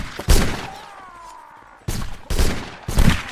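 Rifle volleys crack out in a musket-era battle game with 95th Rifles infantry, several loud close bursts of massed fire separated by short pauses and fading echo.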